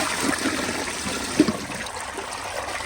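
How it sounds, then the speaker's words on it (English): A Peerless Hancock elongated ADA toilet flushes, giving a steady rush of water with trickling through the whole stretch and one brief gurgle partway in, heard close and with no voices. "So now I'm gonna do another flush at this angle"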